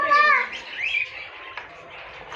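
Lovebirds in an aviary chirp and tweet in quick, high, bright calls, loudest at the start and then scattered and fainter, with no one speaking.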